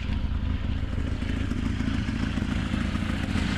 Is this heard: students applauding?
no